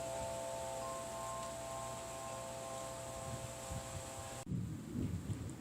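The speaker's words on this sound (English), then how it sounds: "Ooh, I hear thunder." A low, rumbling roll of distant thunder builds near the end, following a steady tonal hum and soft background noise.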